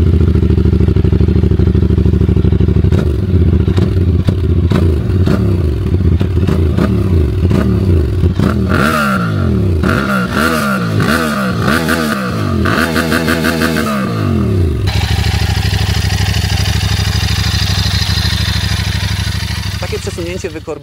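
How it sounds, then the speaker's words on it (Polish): A QJ Motor SRT 550 SX motorcycle, a parallel-twin with 270-degree crank, idles close by with a deep, even thrum, then is revved repeatedly in sharp rising and falling blips before settling into a steadier run. "Tutaj sobie teraz posłuchajcie, jak ten motocykl brzmi."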